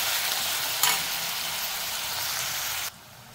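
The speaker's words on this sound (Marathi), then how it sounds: "कांदा चांगला मऊ होईपर्यंत शिजवून घ्यायचा आहे" Onions frying in a pan with cumin and asafoetida, a steady loud sizzle with a brief stirring clatter near the start, the hiss dropping off sharply toward the end.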